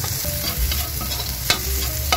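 Chopped onion hits a pan of garlic already sautéing for a Filipino mixed-vegetable pinakbet, producing a loud, close, continuous sizzle with a sharp scrape or clatter about two-thirds through.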